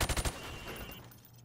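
A short burst of about four rapid rifle shots at plywood targets in the video game Call of Duty, crisp and close, then a fading echo and low hum.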